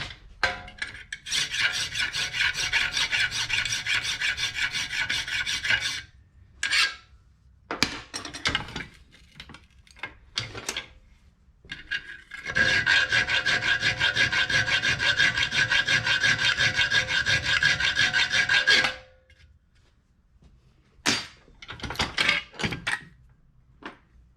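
Two long, loud stretches of harsh abrasive grinding on a workpiece, separated and followed by shorter bursts, knocks and handling noises.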